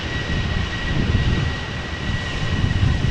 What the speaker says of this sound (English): Little KLM Boeing 737-700